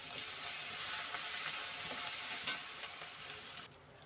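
Crushed green chili paste, added to hot oil with cumin in a frying pan for sabudana khichdi, sizzles in a steady hiss with a small clink partway through, the sound easing off near the end.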